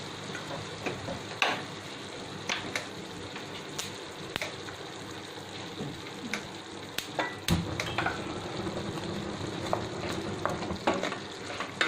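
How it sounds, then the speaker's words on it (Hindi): Aloo gobi, potato and cauliflower, cooks in gravy in a pan over a medium flame, giving a soft continuous sizzle with occasional stirring clicks and utensil taps close by. "मीडियम आंच पे हम इस सब्जी को इस ग्रेवी में पकने देते हैं"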